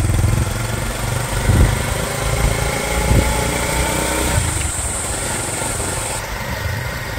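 A motorcycle engine hums steadily up close, with rough low rumbling and slight revving swells, and no talking.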